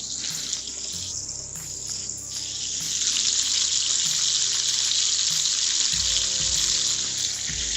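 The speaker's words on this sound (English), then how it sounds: "Gotta toast up my buns." Burger buns toasting in a pan on an electric stove give a steady, close sizzling hiss that grows louder partway through, with no speech.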